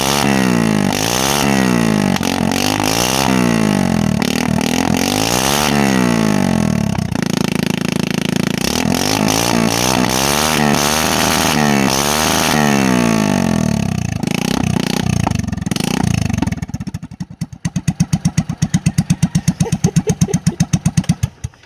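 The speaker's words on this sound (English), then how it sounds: "let's start this thing up and hear what it sounds like with just the header pipe coming out of it" A moped engine fitted with only a race exhaust header pipe runs up close, revving in repeated rising-and-falling bursts, loud and raspy, before dropping to a choppy, uneven idle; no one speaks.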